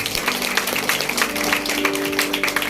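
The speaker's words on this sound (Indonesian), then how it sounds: "Kita berikan tepuk tangan panjang buat Tuhan" Congregation applauding during a Sunday morning church service, brisk continuous clapping from many hands, fairly close, with a sustained tone and light voices in the background.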